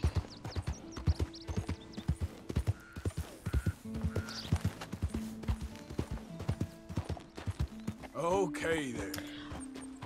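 Horse hooves clip-clop in an irregular walking and trotting rhythm in Red Dead Redemption 2, with a whinny near the end and someone talking over the top.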